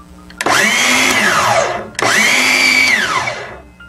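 A DeWalt DCS361 18V cordless 7¼-inch sliding miter saw whirs up twice in quick succession, each run rising in pitch, biting through wood, then winding down; close and loud, without speech.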